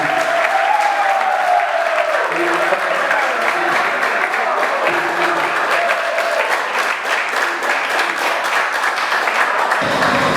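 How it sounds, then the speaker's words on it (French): Audience applause for young graduates at a vocational school graduation ceremony, a loud, dense, sustained wash of clapping from a large crowd throughout, with a brief tonal sound near the start. "Un applaudissement s'il vous plaît."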